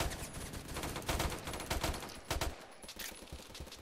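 Rapid gunfire in the Roblox shooter Phantom Forces, a dense burst of repeated shots in quick uneven volleys lasting a few seconds, loud and close, with no talking.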